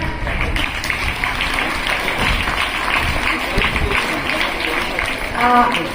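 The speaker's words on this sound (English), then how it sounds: "Clap." Students and guests clap for a prize winner at a school Independence Day celebration, a loud, dense burst of applause in a lively crowd, with voices chattering around and through it.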